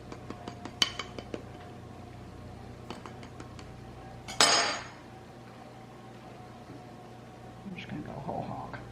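Metal cutlery clinks and taps against a plate while a buttery breakfast pie is cut into slices, a few sharp scrapes early, then a louder clattering knock, with voices talking over it.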